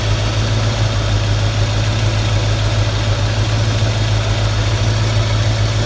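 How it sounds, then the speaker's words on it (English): A 1965 Ford Mustang engine, not yet warmed up, idles steadily with a low, even rumble. It is close and loud, with a constant mechanical hum and no voices. "it's not quite warmed up yet, so that's it idling"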